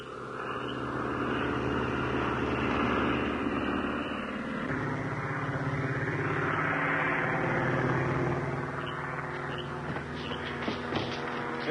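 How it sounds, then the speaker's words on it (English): A propeller airplane's engine drones steadily, swelling and easing as it lands nearby, with a few faint clanks toward the end. "There's one of our planes making a landing now."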